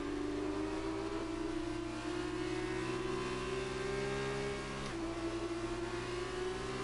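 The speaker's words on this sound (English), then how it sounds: "Revving out the engine, completely destroying the gearbox" An F2 car engine revs hard in the racing game F1 2019, a loud steady whine with a slowly rising pitch, then a brief dip as it shifts gear and climbs again, with no talk.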